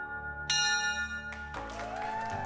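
A hospital treatment-completion bell rung by a throat cancer patient after finishing therapy, with bright sustained ringing tones that start suddenly and decay, followed by a burst of clapping and cheering from people nearby.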